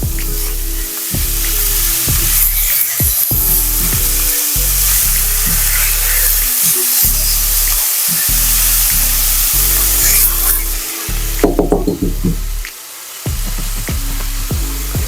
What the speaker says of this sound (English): You wanna add in ground beef, chop it up, mix it in with the onions.